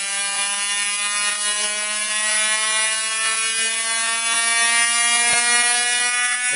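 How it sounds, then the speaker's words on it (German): A CDI ignition fires sparks almost 5 cm long, a loud steady high-pitched electrical buzz with faint crackling ticks running throughout, no talking. "Jetzt habe ich hier Zündfunken von fast 5 cm"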